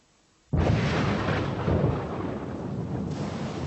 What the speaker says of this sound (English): It was a night attack in a thunderstorm.